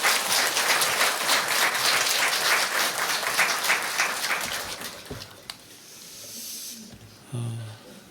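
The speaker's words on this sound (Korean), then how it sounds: "우리 목사님 보내주신 하나님께 감사해서 박수하도록 하겠습니다." A church congregation at a Korean Sunday service applauds, with dense, loud clapping sustained for about five seconds that then thins and dies away into quiet room noise, ending with a brief low sound.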